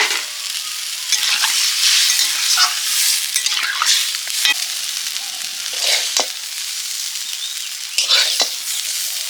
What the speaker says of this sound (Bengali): রুটি ভাজা হয়ে গেছে